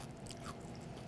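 Crunchy bacon cooked in a hot pan being bitten and chewed up close, a dense steady crackle of mastication filling the short moment with no talking.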